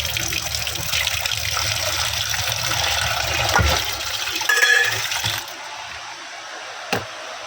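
Meat washed under running tap water at home, with a loud steady gush of water splashing over it for several seconds before it cuts off, followed by a brief knock, no talk.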